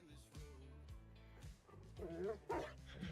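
A dog in the Farming Simulator 25 video game barks in a run of short, bright yips and bow-wows, fairly close, with a player talking over and between the barks.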